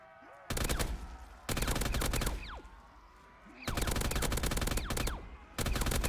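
Hip-fire gunfire in a zombies shooter video game: loud sustained bursts of automatic fire, four long volleys separated by short pauses, with faint in-game sounds between them.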